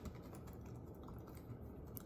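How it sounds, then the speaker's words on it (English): A Lenovo Yoga 7 14-inch AMD 2-in-1 laptop gives soft, quiet touchpad and keyboard clicks, tapped in a steady run at close range, faint and with no talking. "it has a nice, hear that? Not too loud of a click. It's pretty quiet. Same with the keyboard."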